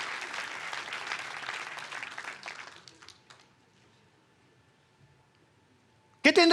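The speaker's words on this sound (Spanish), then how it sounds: "Deme un aplauso." An audience at a church sermon applauds, a dense burst of clapping that fades out over about three seconds into near silence before a voice cuts in at the end.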